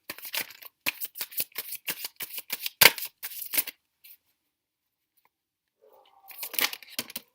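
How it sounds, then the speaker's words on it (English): Tarot cards are shuffled in quick riffling bursts, close up, then a pause of near silence before another brief round of shuffling. "If I can shuffle today. Okay, I'm going to shuffle this way."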